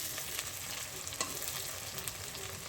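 Onion and garlic frying in butter in a pan, a steady, soft sizzle and crackle with small pops throughout and no talking.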